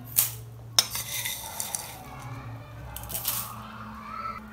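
Green tea leaves, ginger, garlic and other tea ingredients being tipped into a cooking pot, with a few sharp clinks of a spoon against metal and soft rustling and scraping between them, close and fairly quiet.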